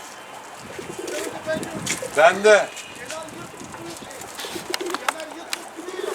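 Pigeons coo outdoors near a loft, with a soft burst of calls in the middle while someone talks over them throughout.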